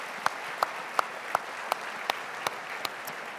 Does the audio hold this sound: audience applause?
yes